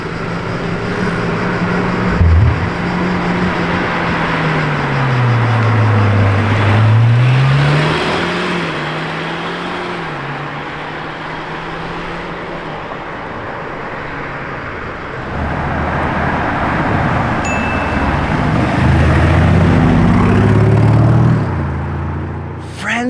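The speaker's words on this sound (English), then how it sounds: "And now one of the Temerario Spyder prototypes is back." A Lamborghini Temerario Spyder prototype drives past, its engine note rising and falling loud and close, then a second swell of revving near the end over steady road noise.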